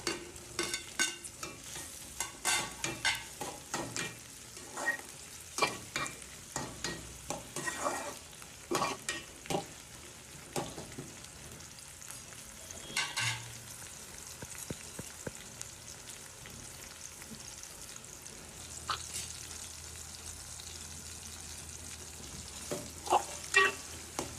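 Chopped tomatoes fry in a pan for a Maharashtrian green pea curry, with soft crackling sizzle and repeated scraping stirs in irregular bursts, close but fairly quiet.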